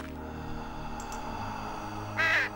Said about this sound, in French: le corbeau il fout trop la trouille